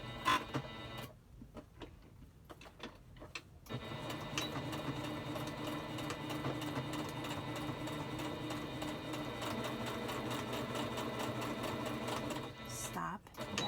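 A sewing machine stitches a one-piece fabric mask in steady, continuous runs of close, loud mechanical whirring, with brief pauses and a short stop near the start, while a person talks intermittently.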